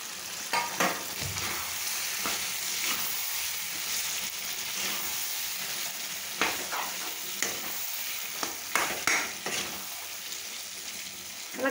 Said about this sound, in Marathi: आता आपण इथे सुरून सोडू.